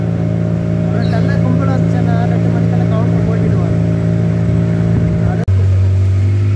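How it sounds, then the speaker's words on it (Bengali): Steady motorboat engine drone carrying a private boat through mangroves, loud and continuous with a brief dropout near the end, voices talking over it. "পুরোটাই পার্সোনাল বোট"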